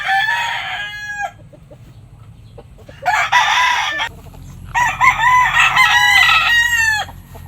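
A golden boy sweater gamefowl broodcock crowing in a backyard, three loud close crows, one brief and two longer, separated by quieter pauses.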